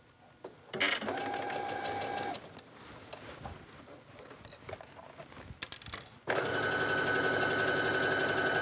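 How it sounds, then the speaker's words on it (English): A sewing machine stitches a seam in shirt sleeve fabric in two bursts, a steady mechanical whirring hum, with quieter handling noises of fabric between them. "So let's go to the sewing machine and make this into a tube."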